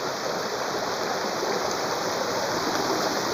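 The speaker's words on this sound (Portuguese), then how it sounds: "riacho maravilhoso aqui. Dentro dessa mata aí" A forest stream runs through the woods in a steady, even rush of flowing water, close and constant for the whole stretch with no voices over it.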